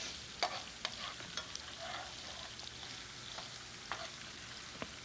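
Onion sautéing in a pan, a faint steady sizzle with scattered light stirring clicks, fairly quiet and up close, no voices.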